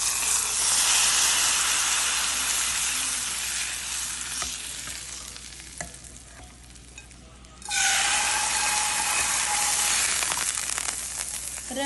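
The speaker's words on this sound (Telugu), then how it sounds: "మా అమ్మ చేసే మజ్జిగ చారుకి ఇప్పుడు పోపు వేస్తున్నాను" Hot oil tempering (popu) for buttermilk rasam (majjiga charu) sizzles loudly and steadily, easing down midway, then bursting back up sharply as more goes into the pan.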